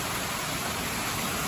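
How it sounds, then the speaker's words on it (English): A mountain waterfall in a Chinese nature area gives off a steady, dense rushing roar that fills the whole moment evenly, with no voices over it. "This is real fresh mountain water, straight from the waterfall."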